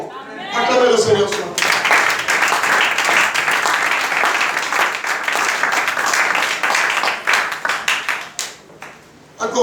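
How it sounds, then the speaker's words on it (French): A church congregation bursts into loud, sustained applause, dense clapping that fills the room for several seconds before thinning out and fading near the end, with voices mixed in. "Acclamez le Seigneur"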